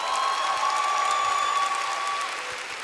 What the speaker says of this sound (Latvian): Dāmas un kungi, sagaidām ar aplausiem